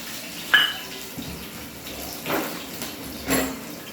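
Curry leaves and green chillies get rinsed under a running tap, water splashing faintly in a few short bursts with soft clinks, quiet and close by.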